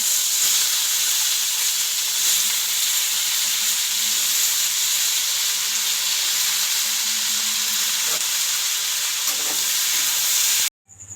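Steady sizzling and hissing of pumpkin curry cooking in a pan, an even broadband fry with a few faint stirring knocks, continuing for about eleven seconds before cutting off abruptly at the end.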